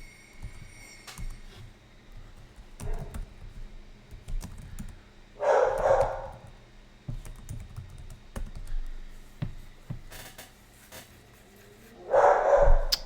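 Dogs bark in two loud bursts, a few seconds apart, over quiet computer keyboard typing and soft indoor clatter.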